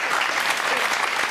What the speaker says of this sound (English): a round of applause from the audience, who likely shared his sentiments